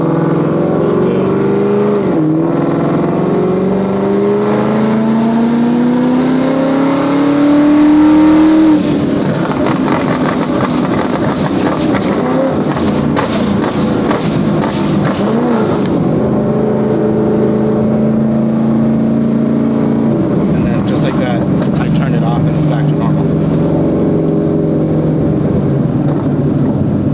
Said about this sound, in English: So right now I'm going to show you kind of what the burble tune will do.